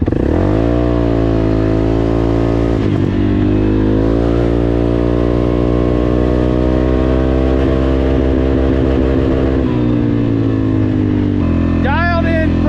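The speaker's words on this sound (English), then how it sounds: "we're gonna do low range this time to rev limiter." A CForce 600 ATV fitted with an RNG clutch kit revs in low range up to its rev limiter, a loud, sustained, close engine drone whose pitch climbs and holds steady with small dips.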